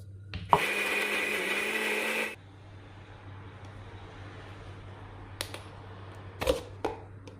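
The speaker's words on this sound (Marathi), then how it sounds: "तर ह्या सगळा मिश्रण आता मी वाटून घेते थोडंसं पाणी घालून" A kitchen mixer grinder blending a masala mixture with a little water, a loud whirring motor burst of about two seconds that cuts off, followed by a low hum and a few knocks and clatters.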